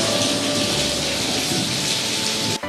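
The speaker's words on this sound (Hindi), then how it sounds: "छमछम करती बारिश ने एबटाबाद हवेलियां और गलियात में एंट्री दी" Heavy pre-monsoon rain in Abbottabad patters in a dense, steady roar of drops on surfaces, close and loud throughout before cutting off abruptly near the end.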